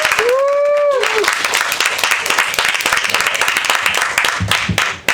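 A comedy club crowd in New York applauds and cheers, a brief whistle rising over the start, then dense steady clapping that fades at the end.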